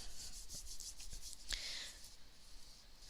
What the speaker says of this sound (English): I lay it on top, and I just rub.